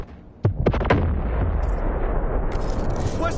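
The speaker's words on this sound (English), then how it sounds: "Requesting artillery barrage." Artillery barrage in the Delta Force video game: a few sharp booming blasts near the start, then a sustained rumbling roar with distant crackle, loud and without talk.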